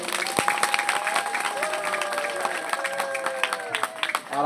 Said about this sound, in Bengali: সবাইকে বলবো একটা জোরে হাততালি দেওয়ার জন্য